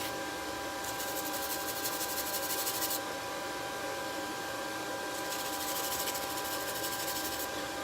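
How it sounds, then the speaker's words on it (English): A forged steel bracelet is burnished to remove scale, a steady close abrasive rubbing with two longer hissing strokes that are brighter than the rest, and no speech. "Kind of burnish it."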